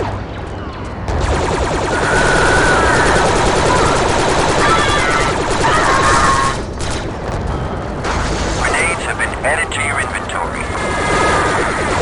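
Gunfire from an enemy gun position in Star Wars Republic Commando, a steady stream of loud blaster bursts with booms, mixed under continuous voiced game dialogue throughout.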